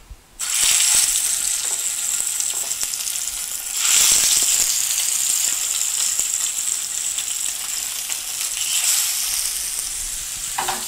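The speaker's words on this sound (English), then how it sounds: "as I put this in here, you're going to hear the greatest sizzle ever" Steady, loud sizzling of food frying in a hot pan, a dense hiss that swells a couple of times as it continues without talk.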